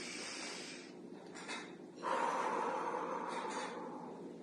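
Slow, deep breaths drawn in and let out, close and breathy, with a longer, fuller exhale swelling midway through; no talking.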